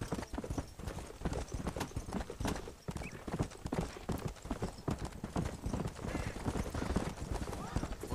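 Horse hooves clip-clop steadily in Red Dead Redemption, a dense continuous rhythm of close, loud hoofbeats throughout, with someone talking over them.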